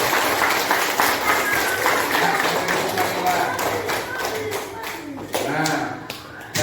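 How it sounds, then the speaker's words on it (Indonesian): Applause from a classroom of students, a steady patter of clapping with a few sharper taps, moderately loud and close, with some voices mixed in as it tapers. "tepuk tangan buat Wanda."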